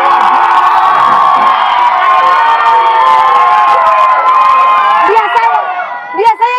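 A large studio audience of about 500 people at a TV talk show cheers and shouts loudly together in a sustained roar. Near the end it breaks into a few higher whoops.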